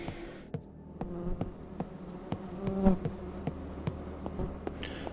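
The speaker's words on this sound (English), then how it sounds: "Damn flies buzzing in my ears." Flies buzz steadily around the listener in the game Close to the Sun, a close droning hum with soft clicks scattered through it.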